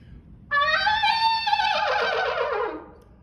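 A trumpet mimics a horse whinny: a bright, wavering, shaky tone that slides downward and fades after a couple of seconds.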